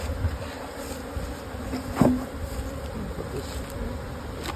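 Honeybees buzz steadily at an opened hive during a single brood chamber inspection, a constant close drone with a brief louder knock partway through and a faint word spoken.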